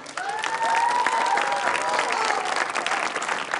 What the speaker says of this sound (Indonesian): Sekali lagi tepuk tangan untuk Bayu Wibowo